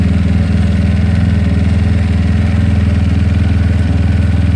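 A GY6 scooter engine fitted with a PWK 30mm carburetor idles close by, a loud, even, rapid thrumming with a steady pulsing rhythm and no change in pace throughout.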